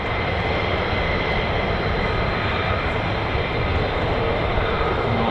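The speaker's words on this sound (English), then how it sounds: "It's F-16s and I'm not sure if they're doing quick climbs," GE F110-powered F-16 fighter jets roaring past near RAF Lakenheath, a loud sustained broadband jet rumble filling the whole stretch without a break.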